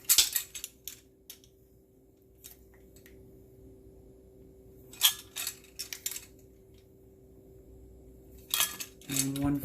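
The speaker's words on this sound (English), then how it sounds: "Let me find the right spoon." Metal cutlery clinks and jangles in bursts as someone rummages through a drawer for a measuring spoon, with quiet pauses between the rattling handfuls.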